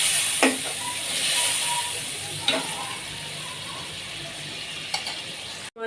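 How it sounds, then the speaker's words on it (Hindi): Marinated chicken frying with onions in a kadai, giving a steady close sizzle with a few clinks from a stirring spoon against the pan. "रहीम, ये देखें जी कितना अच्छे से हमारा चिकन जोन सा है वो भून रहा है।"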